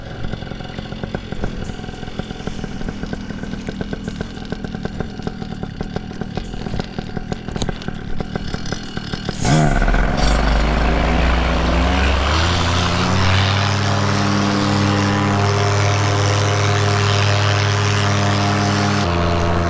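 Breezy outdoor noise first, then a powered paraglider motor fires up partway through and runs loud and steady, its buzzing drone climbing in pitch as it spools up for takeoff.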